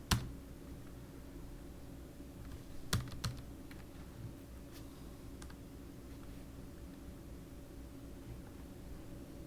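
A few sparse, faint keystrokes on a computer keyboard, with one early click and a small burst partway through, over a low steady hiss.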